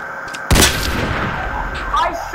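A sharp gunshot from the online shooter Counter Blox bursts out loud and close, then fades into a lingering rumble with faint game sounds behind it.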